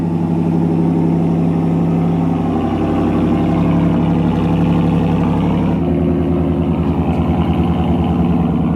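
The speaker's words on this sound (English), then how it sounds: "Nothing sounds better than a Hemi with Borla exhaust" A 2019 Ram Rebel's Hemi V8 engine with Borla exhaust rumbles loudly and continuously, revving with a deep, throaty exhaust burble that shifts character partway through.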